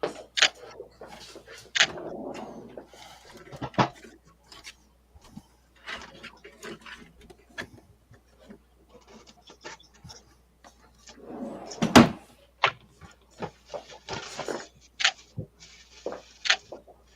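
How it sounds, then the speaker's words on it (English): Large drawers full of stuff are rummaged through in a workshop, giving scattered clunks, rattles and sliding knocks of varying loudness, with one sharp bang partway through. "going into his huge drawers of stuff"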